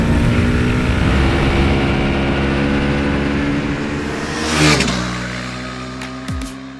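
A 2025 TVS Apache RR310 motorcycle accelerates hard with a bi-directional quick shifter, its engine note loud and sustained, rising through gears with a brief shift blip near the end before the revs drop away.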